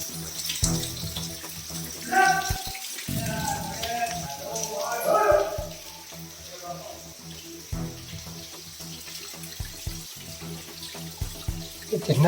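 Water from a waterfall pours steadily behind a mountain temple to a mother goddess, a constant splashing rush under people talking nearby.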